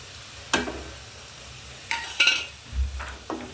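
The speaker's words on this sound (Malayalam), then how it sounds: "നന്നായി ഇളക്കി കൊടുത്ത്" Fried onions in a pan being stirred with turmeric and chili powder: a few separate scraping stirs of a spoon against the pan over a faint sizzle, close by, with quiet gaps between strokes.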